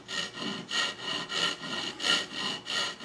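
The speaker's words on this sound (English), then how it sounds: "we'll just saw very gently" A hand saw cuts gently through wood in steady back-and-forth strokes, about seven even rasping passes, close and clear with no voices.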